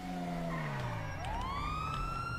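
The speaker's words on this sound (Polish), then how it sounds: "Kurwa, policja, ty, Stachu, policja." A police car siren in GTA V wails loudly, sweeping down and then rising again in a continuous tone over engine rumble, with no talk.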